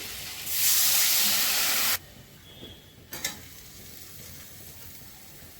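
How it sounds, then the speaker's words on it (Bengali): Water poured into a hot pan of black-cumin fish curry sets off a loud, bright sizzle and hiss for about a second and a half, then cuts to a quieter simmer with a couple of faint clinks. "এরম জল দিয়ে দিচ্ছি"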